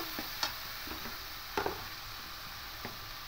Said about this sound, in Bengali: খুব ভালো করে মশলাটা কষিয়ে নেব।